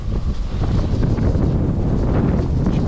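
Strong wind buffets a sailboat lying at anchor off Mindelo in Cape Verde, a constant loud roar and rumble with gusty rustling and no pauses.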